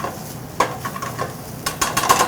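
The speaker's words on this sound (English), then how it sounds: "Now that's going to saute up a little bit. We want to get it hot" Roasted vegetables and sun-dried tomato sauté in a hot pan, giving a gentle sizzle with a few close utensil scrapes and clinks and no one talking.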